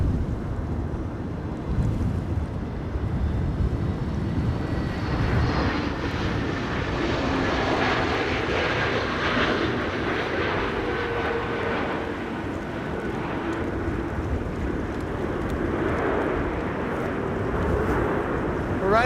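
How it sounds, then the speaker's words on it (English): A Transavia Airbus A321neo, arriving from Malaga at Amsterdam Schiphol during a storm, roars steadily past with loud engine noise, mixed with heavy wind buffeting the microphone and no talking. "Transavia A321neo arriving from Malaga."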